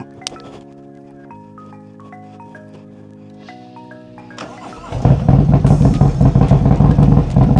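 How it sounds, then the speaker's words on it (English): A cammed, tuned 2025 Harley-Davidson Road Glide engine starts with clattering, then settles into a loud, lopey idle with a choppy, uneven exhaust beat. "You hear that exhaust, boy? It is on."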